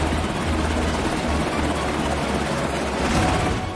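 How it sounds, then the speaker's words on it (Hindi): An MH-60R Seahawk (Romeo) naval helicopter drones steadily and loudly throughout, a dense rotor and engine roar with a low throbbing beat and no voices. "रोमियो हेलीकॉप्टर उसी तैयारी की तस्वीर है।"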